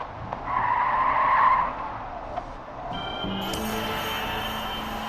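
In the Killer Frequency video game, a car's tires squeal in a short skid as it drives off, followed by a steady engine rumble and a high electronic tone, with no speech.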